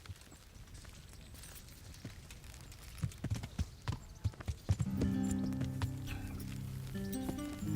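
Horse hooves clip-clopping in Kingdom Come: Deliverance, a few scattered hoofbeats first, then a quicker steady rhythm as the riding gets going, with a rising game music bed beneath.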